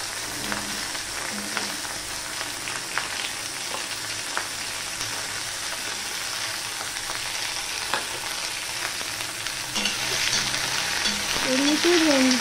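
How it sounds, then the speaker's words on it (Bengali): Okra (bhindi) fries in a pan with no salt added for a vegetarian dish, giving a steady sizzle with scattered stirring clicks that grows a little louder near the end. "এমনিতেই ভেন্ডিটাকে আমি ভেজে নেব।"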